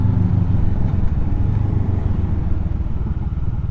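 A Honda CB500X engine hums steadily in second gear on a dry road, running on knobbly tyres, with a constant loud drone and wind noise and no talking.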